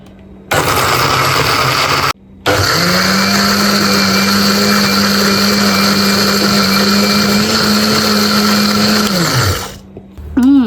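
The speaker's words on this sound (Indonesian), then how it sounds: "Kemudian kita tutup dan kita blender." A blender whirs loudly and steadily for several seconds, blending green chili sambal with boiled ingredients, briefly stopping near the start before resuming, then winding down.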